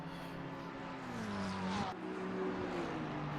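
A McLaren GT3 race car in Assetto Corsa Competizione, its engine droning steadily with a rising whine, a brief dip as it shifts gear, then pulling on again at a constant moderate level.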